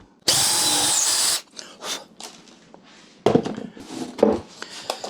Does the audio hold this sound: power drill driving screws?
yes